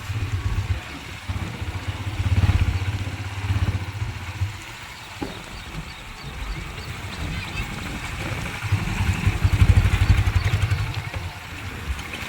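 A motorcycle engine runs as the bike is ridden. The low rumble swells and fades repeatedly through the clip, with clattering road noise and occasional voices in the background.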